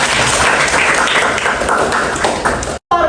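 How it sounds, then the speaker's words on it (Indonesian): Students in a classroom give a burst of dense, close applause for a classmate, continuous clapping that fills nearly the whole span before cutting off abruptly near the end. "Jadi tepuk tangan dulu untuk Nabila"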